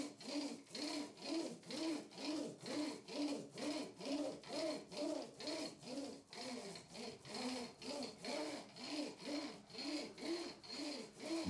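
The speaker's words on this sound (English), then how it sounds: "Here I'm using the paddle roller to remove any trapped air from the" A paddle roller works back and forth over epoxy-soaked fiberglass during peel ply application, making a steady, rhythmic wet rubbing and rolling sound close up, with evenly spaced strokes and no talk.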